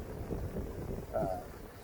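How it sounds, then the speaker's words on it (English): Gusting wind buffets the microphone with a steady low rumble, rising and falling over a couple of seconds, with a brief faint tonal sound partway through. "it's getting windy now"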